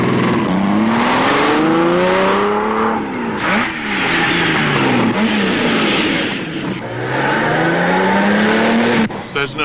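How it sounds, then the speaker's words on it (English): A go-kart engine whines loud and close as it spins around a lawn, its pitch climbing and dropping in repeated revving sweeps. "He's on go-kart, you know."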